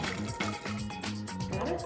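Boiling water poured from a cooking pot with a pouring lip, a short continuous splashing, gurgling stream, close and fairly loud, with some voice mixed in.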